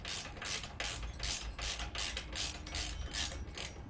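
A ratchet clicks steadily in fast rhythmic strokes while tightening a saddlebag guard bolt on a 2018 Harley-Davidson Sport Glide, close and clear, with no voices.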